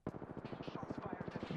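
Rapid bursts of automatic gunfire from an Apex Legends match, a fast rhythmic volley that runs steadily through the moment at moderate loudness.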